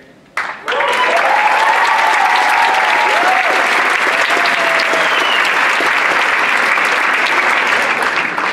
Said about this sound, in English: Let's give Jad a huge round of applause for leading this amazing effort